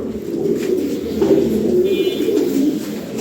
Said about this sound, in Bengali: এটা বাইরের ব্লাড লাইনের কবুতর।